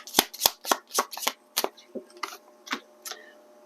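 Oracle cards shuffled by hand for a love reading, a run of about a dozen crisp, papery riffles and slaps in an uneven rhythm, close and clear with no talking.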